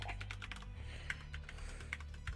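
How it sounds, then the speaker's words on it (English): Rapid clicking of keys as a password is typed on a computer keyboard, an even run of close, distinct taps throughout. "I'm typing in my password wrong."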